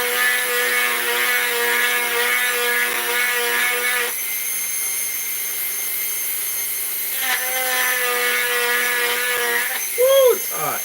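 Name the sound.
sanding inside of silver dollar coin ring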